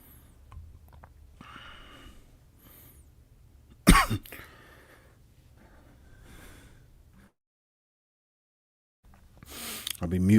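A man coughs once, sharply and close, at the start of a live stream, with faint talk and rustling before it and a second harsh burst of noise at the end after a short silence.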